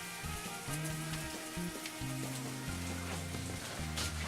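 A Cuban sandwich slider with roasted pork toasts in a hot pan, giving a steady close sizzle while background music plays throughout and no one speaks.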